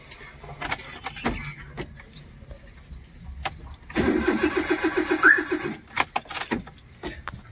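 A Maruti Suzuki Alto 800 with chewed wiring and a CNG setup cranks without firing, the starter whirring in a rapid rhythmic churn for about two seconds among light clicks and background noise before stopping.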